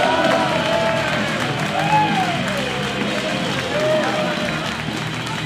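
A sold-out Monday-night comedy crowd at the Frog and Bucket claps and cheers loudly and steadily for the compere, Brennan Rees, a dense wash of applause with scattered whoops.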